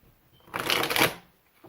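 Tarot cards being riffle-shuffled by hand, one quick close burst of dense papery flutter lasting about half a second, alone in a quiet room.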